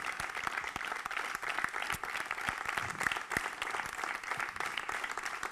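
Applause from an audience at a French municipal election campaign meeting on urban planning, with steady dense clapping lasting throughout, moderately distant and unbroken by talk.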